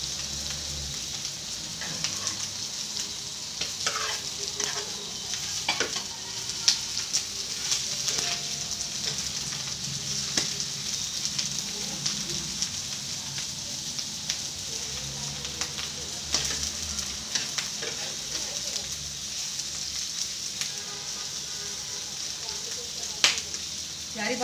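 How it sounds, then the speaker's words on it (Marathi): Fish roe frying in a pan of hot oil, a continuous dense sizzle with rapid sharp pops and spatters scattered throughout, steady and close without any talking. "माशाचे अंडे पटापट उडत आहेत."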